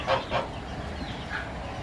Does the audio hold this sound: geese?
yes